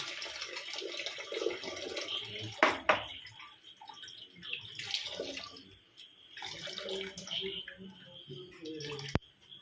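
Ground herbal paste for Karkidaka kanji is squeezed and strained with added water, giving close, intermittent splashing and trickling, a sharp clatter midway and a brief knock near the end.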